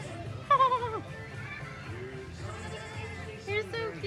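A goat bleats at a pumpkin patch, a few wavering cries over a busy outdoor background with children and voices nearby.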